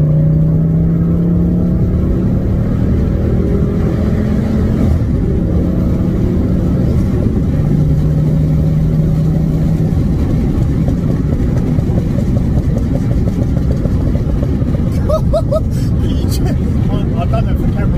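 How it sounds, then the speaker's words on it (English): A Mk2 Ford Focus ST engine idles and revs with a steady, rough, chattering exhaust rumble throughout, loud and close, with brief voices in the background. "that constant chatter of the exhaust"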